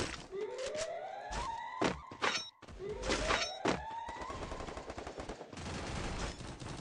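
Rapid gunfire bursts in the mobile battle-royale game Free Fire during a championship match, sharp repeated shots with rising whooshing tones, loud and close, continuing in clusters throughout.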